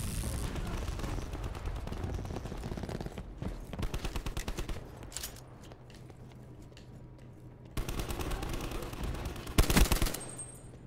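A new gun fires in a Call of Duty: Black Ops 4 multiplayer match, heard as rapid automatic bursts, loud and close, broken by short pauses and ending in a sharper final volley.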